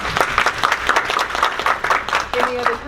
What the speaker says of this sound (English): Let's give our council members a round of applause.